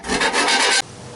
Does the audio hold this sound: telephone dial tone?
no